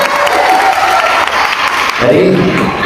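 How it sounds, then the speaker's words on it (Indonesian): An audience at an Indonesian speaking event breaks into steady, dense applause that fills the whole stretch, loud and close, with a voice speaking over part of it. "Tepuk tangan buat mereka-mereka yang sudah berbicara."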